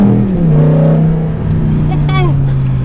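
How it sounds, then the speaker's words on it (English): A manual V8 car with an aftermarket exhaust pulls hard around a turn in second gear, a loud, deep, steady engine drone rising slightly in pitch from inside the cabin, with a brief higher chirp near the end. "That's definitely a lot louder than the stock exhaust on the V8"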